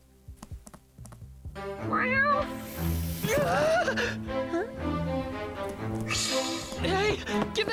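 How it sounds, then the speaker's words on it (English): Arthur the cat from Code Geass meows in several rising, wavering cries mixed into a busy anime scene with music and scuffling thumps; the meows come through loud and near. "a cat named Arthur steals Zero's helmet"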